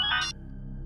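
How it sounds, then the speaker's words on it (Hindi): A phone ringtone chirps briefly, a bright electronic tone lasting about a third of a second, then fades into a low steady hum. "लगता है उसी का फोन।"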